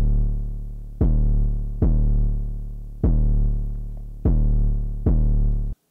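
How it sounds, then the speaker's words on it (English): Bouncy 808 bass sample from a Post Malone-style beat, five loud deep booming hits at a steady pace, each with a sharp attack and a short decay, cut off abruptly after the last hit. "It's a very bouncy 808."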